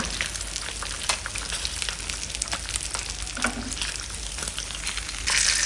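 Fish frying crisp in hot oil close to the pan makes a dense, continuous crackling sizzle with scattered sharp pops, steady in loudness and swelling slightly at the very end.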